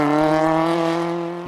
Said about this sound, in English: This is Rajbir Rai and Supi Soin driving to reach service after losing compression in one of the cylinders